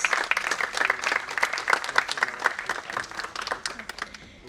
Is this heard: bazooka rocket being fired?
no